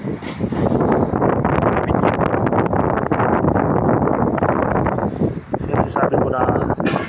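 Strong wind at a factory buffets the microphone in a loud, continuous roar with rumbling gusts that dip briefly near the end.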